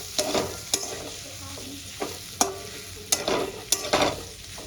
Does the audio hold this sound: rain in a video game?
no